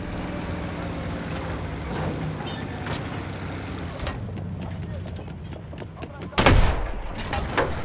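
A tank rumbles nearby in the World War I shooter Battlefield 1, its low, steady mechanical drone running under scattered gunfire and battlefield noise, with a loud, sharp blast bursting in near the end.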